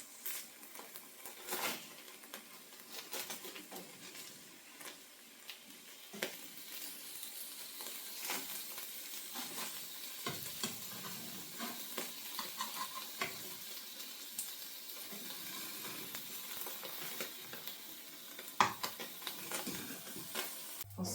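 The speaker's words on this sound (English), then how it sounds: "now the Houllami is starting to cook a little bit." Halloumi cheese sizzles steadily in a frying pan, a soft continuous crackle and hiss with occasional small pops and a faint knock or two, close but fairly quiet, with no voices.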